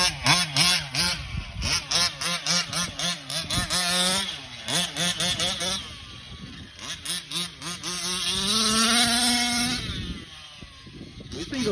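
A gas-powered 1/5 scale RC truck runs close by, its small two-stroke engine buzzing loudly and revving up and down in choppy bursts that rise to a sustained high-pitched whine near the end.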